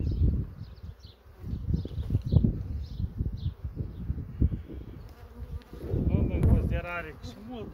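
Honeybees buzz around an open beehive frame during a hive inspection, a close, continuous droning hum with uneven swells, joined near the end by louder, rougher handling noise.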